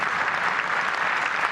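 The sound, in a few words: audience applause for student orchestra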